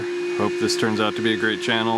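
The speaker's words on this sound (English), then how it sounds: "Sorry about the vacuum noise in the background." A vacuum cleaner drones steadily in the background beneath someone speaking, its constant whine running under his voice throughout.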